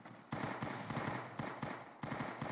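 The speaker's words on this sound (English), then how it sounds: "See gunshots." Gunfire in the Roblox game Arsenal cracks out in a quick series of sharp shots, roughly five or six bursts spaced about half a second apart, fairly quiet and distant-sounding with no talk.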